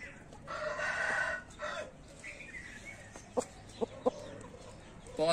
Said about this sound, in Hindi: बहुत मजबूत मुर्गा है ये भी।